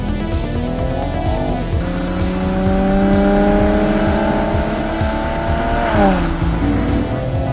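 Mercedes-AMG E43 4Matic twin-turbo V6 accelerating at full throttle, engine note climbing steadily through a gear, then a brief dip at the shift before pulling again, loud and close from inside the car.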